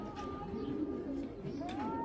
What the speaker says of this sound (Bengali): এই যে দেখেন একটা গ্রিজাল কবুতর